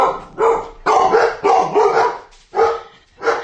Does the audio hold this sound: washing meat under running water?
no